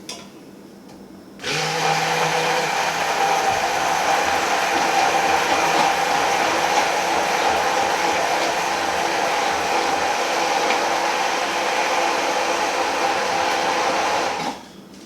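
A blender on low speed whirs steadily while mixing homemade mayonnaise, a constant loud motor hum switching on abruptly after a quiet moment and running alone until it cuts off at the end.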